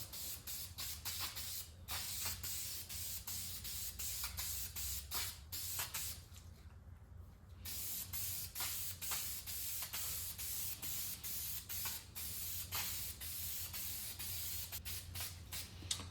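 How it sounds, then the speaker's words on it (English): K&N filter oil sprayed onto a foam air filter for a Can-Am Maverick Sport XRC side-by-side, a close steady hiss in repeated bursts with brief gaps, continuing for the whole stretch. "Got some K&N filter oil, and we'll just spray it up."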